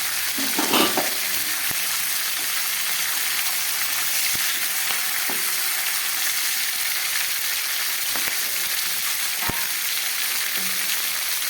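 Green chilies and bay leaves sizzle in hot oil while fish head and pumpkin cook, a steady broadband frying hiss with occasional sharp crackles and spoon taps, close and continuous with no voice.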